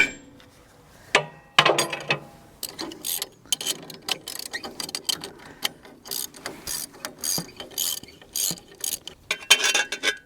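A ratchet wrench clicks in quick bursts while working on a bolt of a rolling cultivator mounted on a Farmall Super A tractor, with metallic clinks between the bursts, close and clear with no talking.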